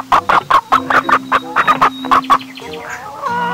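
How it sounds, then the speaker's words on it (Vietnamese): A hen clucks in a quick run of about a dozen sharp, close clucks with an uneven rhythm, trailing off into a softer, drawn-out call at the end. "Wow, thì ra nó là một con gà mái các bạn ơi."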